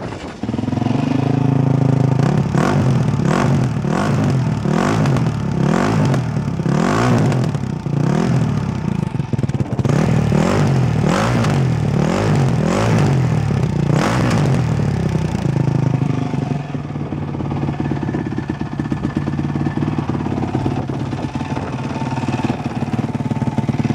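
A 2010 Honda CRF 450 X dirt bike engine revs hard in a string of quick, loud throttle blips close by, then settles into a rougher, steadier idle-like clatter.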